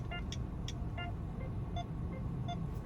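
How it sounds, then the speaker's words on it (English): A 2025 Mitsubishi Xforce GT 1.5G's turn signal ticks in a steady, evenly spaced rhythm of bright clicks over a low engine rumble. "this is the first time I'm hearing this kind of turn signal indicator"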